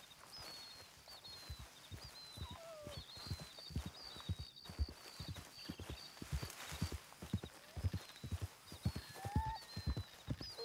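Horses in the western video game Red Dead Redemption 2 walk with steady, rhythmic clip-clop hoofbeats throughout, with occasional birdsong above and a faint whinny, no talk.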